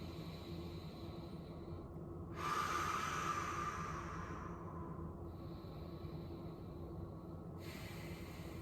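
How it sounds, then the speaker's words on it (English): Deep, slow breaths drawn in and out through the nose during a fitness session, heard as a soft airy hiss that swells and fades, close and quiet over faint background noise. "we want to have a nice 5 deep long breaths through your nose, in and out, and inhale your belly"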